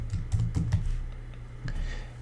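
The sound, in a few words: typing a material name on a computer keyboard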